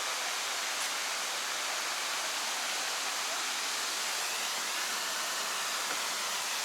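Water fountain at the Mezhyhirya estate in Kyiv splashing continuously, a steady broadband hiss of falling water heard from nearby with no other sounds.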